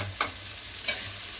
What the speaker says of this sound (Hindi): अभी इसको अच्छे से टॉस करूंगा मैं।